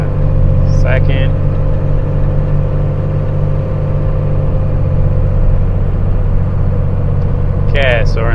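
A 1995 Dodge Cummins 2500 diesel pickup pulls onto the road. A loud, steady low engine rumble fills the whole stretch, with brief faint voices near the start and the end.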